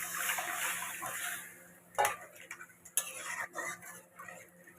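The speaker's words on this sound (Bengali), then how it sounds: "এবার জল দিয়ে দিচ্ছি।" Water goes into a pan of fried spices for a Bengali fish curry with potato and tomato, first as a broad hissing sizzle, then as scattered clinks of utensils against the pan and quiet stirring.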